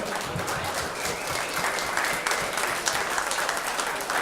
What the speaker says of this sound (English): Let's give them a big round of applause for everything you guys do.